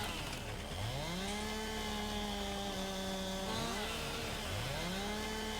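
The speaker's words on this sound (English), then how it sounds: "Bit of a loud old chop, the old chainsaw." A Farming Simulator 19 chainsaw chops logs with a loud continuous engine roar, revving up early, then bogging down and recovering twice more as it cuts, a tractor idling behind.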